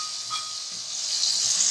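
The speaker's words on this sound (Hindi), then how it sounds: "तो अच्छी तरह से हमने भूनना है मसाले को।" Masala with ginger garlic paste sizzles while frying in a karahi for tikka boti, a steady soft hiss that swells slightly louder toward the end, with no talking.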